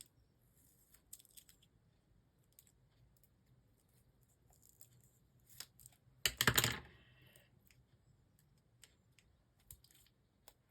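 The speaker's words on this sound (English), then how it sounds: "I'm going to chop that off shorter and then cut these 2 strips down" Paper strips being cut for a mixed media scrapbook layout, faint scattered snips and paper rustles with one louder, longer crinkling cut midway, otherwise quiet.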